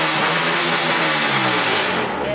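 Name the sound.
Acura Integra engine revving to rev limiter with exhaust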